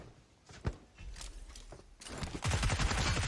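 Gunfire in a shooting video game: a few scattered shots early on, then a dense rapid burst of automatic fire at moderate loudness with no talking.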